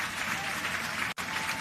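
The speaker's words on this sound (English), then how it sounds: "that applause says it all" Brief, dense audience applause at a tribute to Jamaican stage, television and film actor Glen Campbell: a continuous wash of clapping with a momentary dropout near the end.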